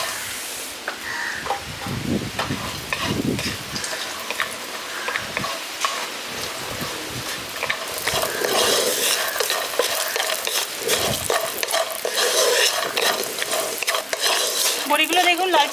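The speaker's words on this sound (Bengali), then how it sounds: "এবার বড়িগুলো আমি ভেজে নিচ্ছি।" Lentil dumplings (bori) fry in oil in a pan, giving a steady close sizzle with frequent scraping stirs that grow louder in the second half; no one speaks.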